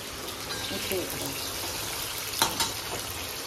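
Vegetables for shukto, a Bengali dish, fry in a pan with a steady close sizzle, a brief louder clatter of stirring partway through.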